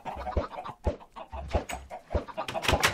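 Chickens in the video game Minecraft cluck in a series of short, clipped bursts spread across a few seconds, fairly close and clear, with no talking.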